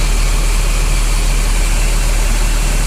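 Mercedes-Benz 1626 coach with Laksana bodywork idles steadily, a loud, constant low engine rumble with broadband hiss running unbroken throughout, no voices.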